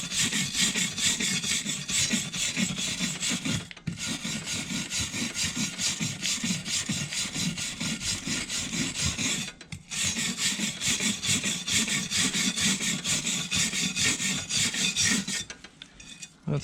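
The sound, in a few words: mechanical scrubbing rust off a Carter No.7 jointer plane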